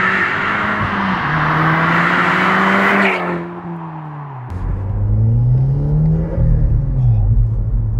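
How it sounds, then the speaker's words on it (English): SEAT Leon Cupra fitted with a Revo induction kit, a loud engine revving up through gears, a brief dip as it shifts, then climbing again with a throaty intake growl. "I just love the noises it makes, particularly from that Revo induction kit"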